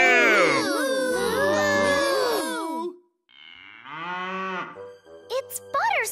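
Several cartoon voices give drawn-out, wavering moos that imitate a cow, followed by a deeper cow-like moo answering from a farm scene, with short gaps and quick voiced calls near the end.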